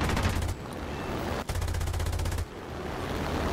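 Machine guns on an IAR-81C fighter fire in War Thunder, two rapid rattling bursts of fast, even shots, each about a second long, separated by short pauses against a steady engine drone.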